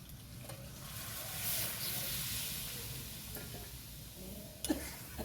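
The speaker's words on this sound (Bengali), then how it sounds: "এখন আমি দিয়ে দেবো বাকি যে জলটা ছিল সেটা সবটাই দিয়ে দেবো।" Sizzling meat for a Bengali meat khichuri as water is poured into the hot pan, a steady close frying hiss with a few stirring clicks and a sharper splash-like burst near the end, no talking.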